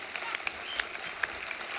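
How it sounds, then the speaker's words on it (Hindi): A brief burst of studio audience applause on The Kapil Sharma Show, a Hindi comedy show: fairly loud, even clapping with a few sharper claps standing out. "एक बार जोरदार तालियां हो जाए"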